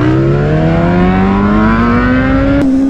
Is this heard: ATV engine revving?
yes